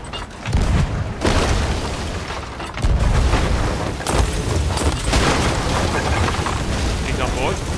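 Cannon blasts in a pirate ship video game, several deep booming shots across the clip amid loud continuous game noise, with players talking over it.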